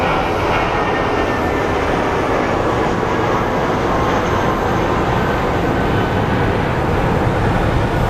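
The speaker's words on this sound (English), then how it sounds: "we have an it looks like American West Airlines special livery departing" An America West Airlines special-livery jet departs Phoenix Sky Harbor International Airport, its loud, steady broadband engine roar filling the scene evenly throughout with no break or fade.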